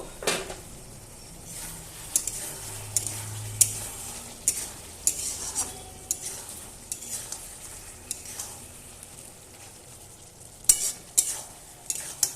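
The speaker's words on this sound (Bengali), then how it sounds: "মাংসটা এবার আমি ভালোভাবে কষাবো, আর ঢাকবো না।" Country chicken curry meat stir-fried in a pan: repeated spatula scrapes and clacks against the metal over a continuous soft sizzle, close and steady, with no talk.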